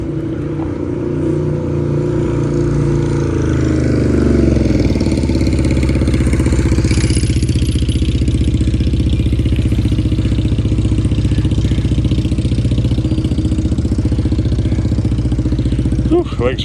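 A big-tire motorcycle engine runs with a deep, loud, steady throb up close, its pitch holding fairly constant throughout while a voice speaks briefly over it.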